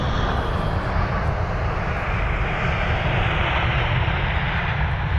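A Croatian Airlines Airbus A319 landing at London Heathrow, a steady, loud broadband engine roar and rushing air that holds evenly throughout with no voices.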